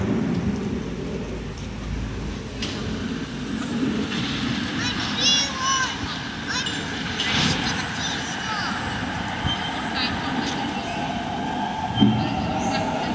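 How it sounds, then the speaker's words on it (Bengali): An MRT line train runs past in Subang Jaya, a sustained rolling rumble with rising and falling wheel noise, heard from nearby beneath a voice talking. "এই যে এমআরটি লাইনে ট্রেন চলতেছে।"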